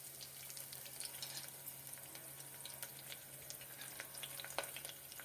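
Crushed garlic and four cut green chillies fry in oil, a faint, steady sizzle with scattered small crackles and pops, heard close in a quiet kitchen.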